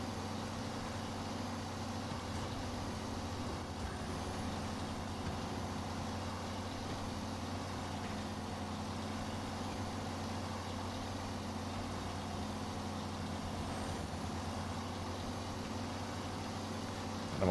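A Kenworth heavy truck in SnowRunner, running an off-road gearbox, gives a steady low engine drone that holds at an even level throughout with no talking.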